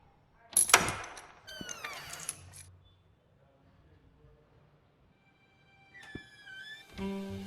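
Penny's keys jangle in the video game The Last Case of John Morley, a brief metallic rattle amid clicks, thuds and game sound effects, with separate short sounds and quiet gaps between them.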